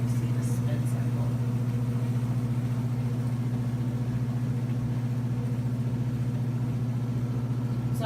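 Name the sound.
Giantex portable washing machine spin cycle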